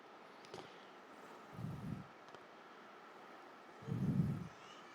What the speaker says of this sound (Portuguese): Como está muito vento aqui